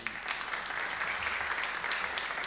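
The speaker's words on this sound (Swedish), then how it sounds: "Ge honom en applåd också." An audience at a political debate during Almedalen week in Sweden applauds with a continuous, even wash of clapping heard from a moderate distance.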